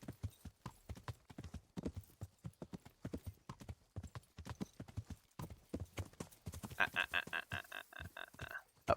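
Rapid clip-clop of horse hooves trotting steadily in the video game Kingdom Come: Deliverance, fairly close, with a brief brighter tonal burst near the end.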